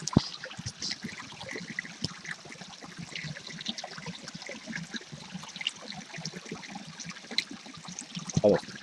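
A small stream in a little forest trickles and babbles steadily, a soft continuous wash of water with no voices over it.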